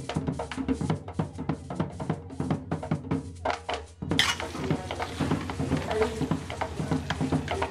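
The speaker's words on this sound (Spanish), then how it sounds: "Vamos a revolver." Meat seasoned with garlic, dried herbs and achiote is stirred in a pot for empanada filling, giving steady clinking and scraping of a spoon against cookware, growing louder and denser midway through.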